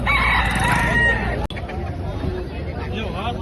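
A rooster crows loudly at Akola's Sunday chicken market in Maharashtra, a drawn-out call in the first second followed by crowd babble and nearby talk.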